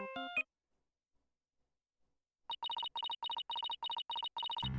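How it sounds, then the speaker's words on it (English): A phone rings in the courtroom video game Ace Attorney: Dual Destinies, a rapid series of about ten short electronic chirps after a brief jingle and a pause, clear and close with no talking. "My phone, it's from Trucy"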